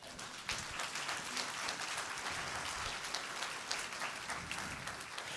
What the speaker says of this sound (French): J'attendais une acclamation de ça.